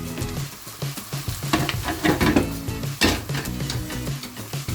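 Tadka tempering sizzles and crackles steadily in a pan for paneer bhurji, with clinks of stirring and pan contact breaking through the hiss.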